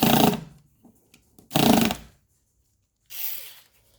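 A power driver whirs in short bursts while backing screws out of a dining chair seat, two loud close runs then a fainter third, separated by quiet handling clicks.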